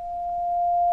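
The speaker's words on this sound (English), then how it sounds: "Let me use some Morse code and I'll show you what we mean here." A steady sine-like test tone used as Morse code in a JACK audio and ALSA setup for Mumble on Ubuntu, heard as one unbroken held beep lasting about a second, clean and alone over a faint low hum.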